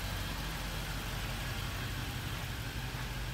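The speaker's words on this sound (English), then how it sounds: "Go out the back and hear that nice sounding engine." A 2011 Land Rover Range Rover Supercharged with dual exhaust idles steadily, a low, even engine rumble heard from behind the car with no variation in pitch.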